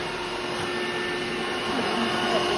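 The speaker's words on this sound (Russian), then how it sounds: "Таким даже приятно пылесосить." A heavy household vacuum cleaner runs with a steady motor whine and a constant airy hiss, holding level and slightly rising near the end, with no voices over it.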